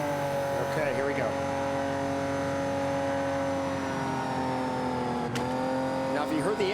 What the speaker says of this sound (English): you could hear how the engine struggled to get higher